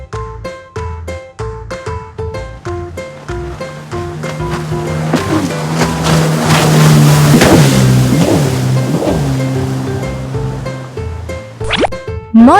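A jet ski engine revs up over splashing water, building to a loud rising whine with repeated throttle surges, framed by light musical notes at the start and end.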